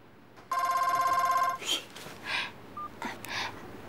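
A telephone rings with one loud electronic trill lasting about a second, followed by soft movement sounds and brief faint beeps in a quiet room.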